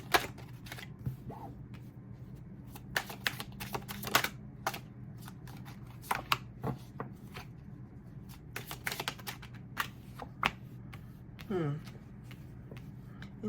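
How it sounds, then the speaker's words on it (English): Tarot and oracle cards are shuffled by hand in bursts of quick, dry riffling clicks and soft slaps, with pauses between bursts and someone speaking. "All these cards, shuffle,"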